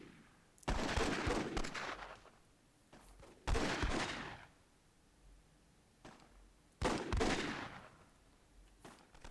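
Three heavy, roaring explosion bursts from an RPG barrage in the Myth II Soulblighter WWII mod, each a sharp loud blast decaying over a second or two, spaced a few seconds apart with quieter rumble between.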